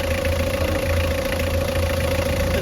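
A Mitsubishi 4D56 diesel engine, repaired after running rough and smoking white, idles close and loud with a steady, even rumble and a constant mechanical whine, with no talk.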